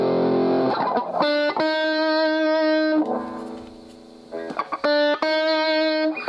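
A heavily distorted Donner DST-152 electric guitar with high gain rings out sustained chords with gritty overdrive, several separate notes held and cut off, loud and alone.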